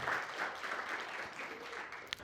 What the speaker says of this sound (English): So please, a round of applause for Allison and the Negative Space